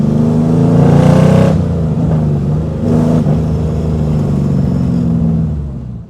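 A 1960s Corvette C2 convertible's engine rumbles loud and close, a deep V8 burble rising in a rev near the start and again briefly, then settling into a steady throaty drone with no talking.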